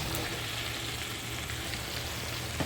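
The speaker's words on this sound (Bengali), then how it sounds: "এরপর ভাজা পটলগুলো এর মধ্যে অ্যাড করে দিচ্ছি" Fried pointed gourd pieces are added to a spiced gravy in a pan and stirred, giving a steady close sizzle with a few soft scraping knocks and no voices.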